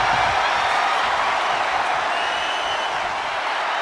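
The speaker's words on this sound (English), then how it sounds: "The crowd is fired up." A dense, steady roar of an arena crowd cheering fills the soundscape throughout, loud and unbroken, during a wrestling match in the video game WWE 2K25.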